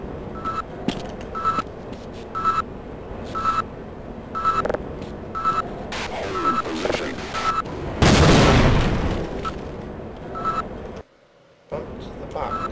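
Gunfire in the game Half-Life comes as scattered shots and one loud burst near the end, amid repeating electronic beeps and low game ambience.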